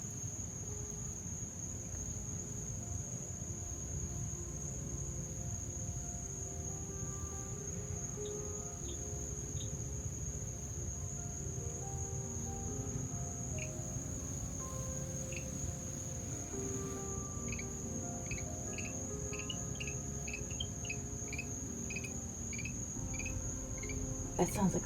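Night chorus in a garden where night-blooming jessamine grows, a constant high insect trill with a frog calling in short repeated chirping bursts, moderately distant.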